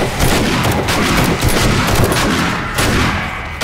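Repeated loud shotgun blasts and heavy gunfire in the survival game 7 Days to Die, close and continuous for a few seconds with little pause between shots.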